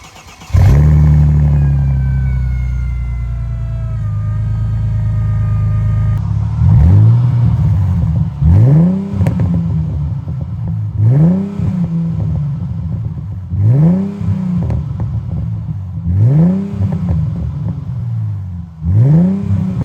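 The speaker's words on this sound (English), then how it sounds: "a startup and rev on the Crossfire" A Chrysler Crossfire V6 with a proper exhaust system cranks and fires up, settles into a loud idle, then gets a run of repeated revs rising and falling in steady rhythm, each capped low by a soft limiter.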